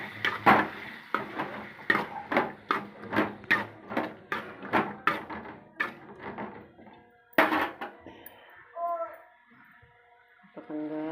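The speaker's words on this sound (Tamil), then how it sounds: "உருளைக்கிழங்கு ஆட் பண்ணிவிட்டு ஒரு கிண்டு விட்டுக்கிறோம்" Potatoes get stirred in a cooking pot for a potato dish: about a dozen evenly spaced scraping strokes, close and fairly loud, then a sharper clank and a few quieter kitchen noises.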